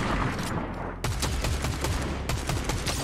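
Rapid bursts of automatic gunfire in the Fortnite video game crack in quick succession, loud and close, with a short pause before another rattling volley.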